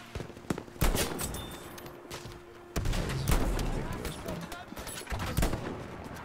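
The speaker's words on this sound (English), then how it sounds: "Six pounder shot just goes through this guy four times in a row." Six pounder cannon shots in Battlefield V, a series of loud sharp blasts spaced irregularly over several seconds, each with a rumbling tail, amid battle noise.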